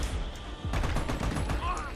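Rapid automatic gunfire in the video game Army of Two, loud, close bursts of shots running throughout with slight dips in intensity.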